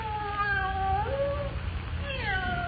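A cat yowls in a long drawn-out wail of several wavering cries, loud and close, with a second rising meow near the end.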